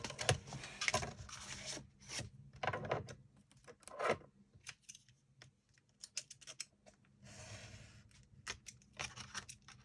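Scissors cutting lengthwise along a large fabric panel for a sewing-box project, heard as close, quiet bursts of crisp snipping and rustling with pauses between cuts.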